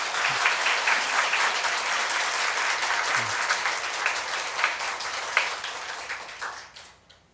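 A church congregation claps together in sustained, dense applause that holds steady and then tapers off toward the end.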